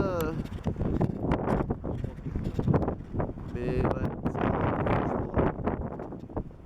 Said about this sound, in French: Ah, on a pas mal de vent